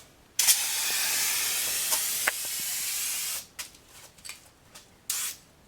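Spray paint can hissing out a second light coat onto steel parts, a loud continuous spray burst of about three seconds, then a few short puffs and a final quick blast, close by with no talking.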